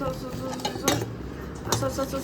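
Gram flour batter with turmeric, asafoetida and salt being whisked in a bowl, with light clinking and scraping of the utensil against the vessel while a person talks throughout.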